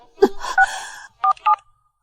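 A handful of short telephone keypad dialing tones beep in quick succession during a call attempt that reaches a switched-off phone, clear and close with nothing else around them.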